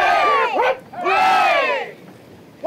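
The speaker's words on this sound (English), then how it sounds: "Three cheers to Picton Castle! Hip, hip, hooray!" Aboard the tall ship Picton Castle, a crowd gives loud group cheers, a sharp shouted call followed by a longer, swelling roar of voices, close and energetic.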